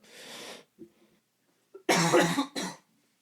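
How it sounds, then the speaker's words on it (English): Two loud, harsh coughs close to the mic, the first a short burst and the second a longer double hack, with a faint throat noise between. "Sorry, I'm going to cough here."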